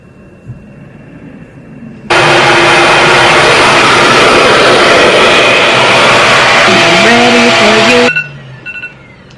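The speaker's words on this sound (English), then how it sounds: "I'm really glad I have this blow dryer now." RevAir reverse air hair dryer switching on with a sudden loud, steady rushing whoosh that holds for about six seconds, then cuts off, leaving quiet room tone before and after.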